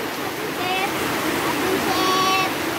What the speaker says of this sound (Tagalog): dahil ang lakas ng ulan